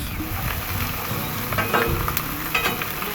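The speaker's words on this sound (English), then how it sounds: "I just want to kind of saute them down, soften them up a little bit." Onions and peppers sauteing on a Blackstone griddle, a steady close sizzle with faint scraping and stirring, no voices.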